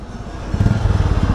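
A Royal Enfield Classic 350 motorcycle fitted with a sport exhaust rumbles close by, its deep throbbing idle swelling into a louder pulsing beat partway through, in traffic.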